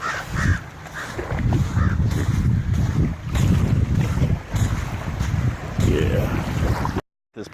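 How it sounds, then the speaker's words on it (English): Several big crows caw in short repeated calls near water on a forest and beach hike, mixed with heavy wind rumble across the microphone and a person talking. "Those big crows there, that stick there."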